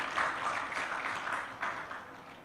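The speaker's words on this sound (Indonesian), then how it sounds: "tepuk tangan" An audience at an awards night applauds in a steady patter of clapping that sounds somewhat distant and fades slightly toward the end.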